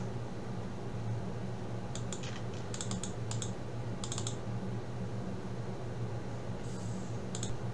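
Short bursts of key clicks from a computer keyboard as a command is typed, a few quick clusters over a steady low hum of background noise, close and without talk.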